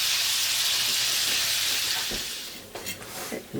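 Bacon frying in a pan, a steady loud sizzle and hiss that eases slightly, with a few scraping and tapping sounds near the end.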